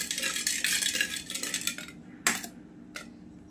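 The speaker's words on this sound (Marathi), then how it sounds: "आता आहे ना हे दूध पावडर टाकून हलवून घ्यायचं मस्त याला" Milk powder being stirred into warm milk in a pot, a spoon scraping and swishing steadily for about two seconds, then two sharp separate clinks of the spoon against the rim, close and alone.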